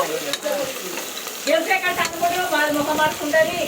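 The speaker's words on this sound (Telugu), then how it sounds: "సో ఇప్పుడు మంచిగా గరిట పెట్టి మిక్స్ చేస్తుంది మన అన్నమ్మ." A ladle stirs goat head curry in a hot pot, making wet scraping and sloshing strokes over a constant sizzle, close and fairly loud.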